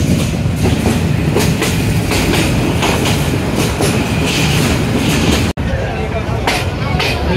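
A train pulls into Joydebpur railway station with a loud, close rumble and rhythmic clickety-clack of wheels over rail joints, steady throughout apart from one abrupt drop-out.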